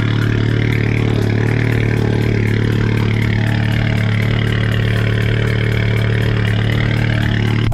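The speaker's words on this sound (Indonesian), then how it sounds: "Masih dingin, guys. Lagi cold start dulu" A Volkswagen Scirocco R idles loud and close on a cold start, a steady low engine drone with a fast, even pulsing throughout and no voices.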